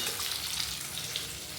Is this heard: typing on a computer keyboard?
no